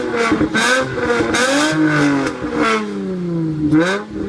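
An Infiniti G35 revving, its exhaust note rising and falling through several throttle blips with a raspy, harmonic-rich drone, loud and close with no talk.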